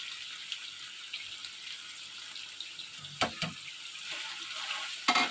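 Chicken browning in a pan with spices, a low continuous sizzle broken by a few sharp scrapes and clinks of a spoon against the pan, quiet and without speech.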